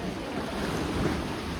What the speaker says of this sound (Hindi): लहरें देखो अभी इस टाइम